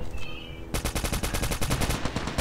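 Rapid automatic gunfire in the Call of Duty Mobile video game, a dense rattling burst of evenly spaced shots that starts abruptly after a brief quieter moment and keeps going, loud and close, with no talking.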